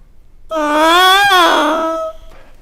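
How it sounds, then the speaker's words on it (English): A bassoon double reed is blown on its own without the instrument, giving a single loud, buzzy, squawking tone about a second and a half long that wavers in pitch like a kazoo. "If you play the reed by itself, it sounds a little funny"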